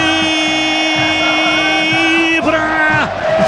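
Football fans roar at the legendary Estádio Moisés Lucarelli during a Ponte Preta versus Guarani Campeonato Paulista match, a loud, steady crowd din running beneath a commentator's long, held, sung-out shout.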